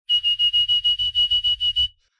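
A beatboxer's mouth imitates a whistle: about a dozen rapid, evenly spaced high whistle pulses over a low buzzing undertone, close and loud, lasting under two seconds with no other sound.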